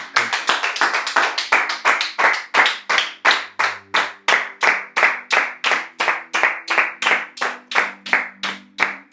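A church congregation at a worship retreat claps in steady unison to acclaim the Lord, a loud, even rhythm of sharp claps roughly three per second, continuous with no talking.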